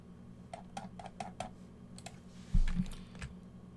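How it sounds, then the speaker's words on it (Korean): A computer keyboard spacebar pressed repeatedly during a platform game, giving five or six quick, evenly spaced clicks, followed by a louder thump, over a steady low background hum. "스페이스바 계속 누르면 계속 점프할 수 있거든요"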